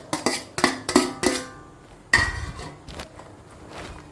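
A spoon stirs a bhelpuri mixture with chopped tomato and coriander in a metal bowl, making a quick run of sharp, close clinks and scrapes followed by a few softer taps.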